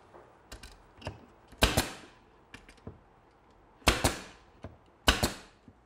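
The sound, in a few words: nailing plywood back onto a drawer chest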